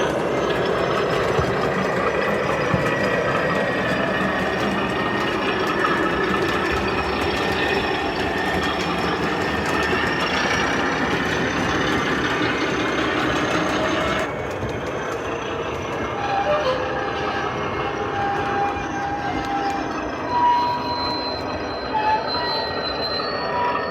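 An O gauge DCC model locomotive runs steadily with continuous engine sound and rail squeal, loud and unbroken, easing to a slightly lower, quieter level partway through.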